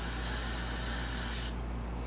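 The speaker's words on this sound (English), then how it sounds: "You want to spray some in there." Carb cleaner degreaser sprays from an aerosol can into a dirt bike wheel hub, a steady close hiss lasting about a second and a half before cutting off abruptly, with no talk.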